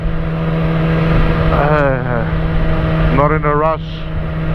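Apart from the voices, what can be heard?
Yamaha R6 supersport motorcycle engine while riding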